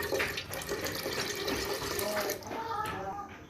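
Four cups of water are poured into a cooking pot for rice and lentils, giving a steady splashing, gurgling stream that runs close and continuous throughout.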